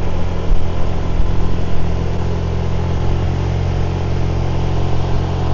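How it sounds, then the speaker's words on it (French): A car engine drones steadily while driving up a steep hill on Koh Samui, a constant loud low hum with a faint rise in revs and no talking. "J'accélère un peu plus."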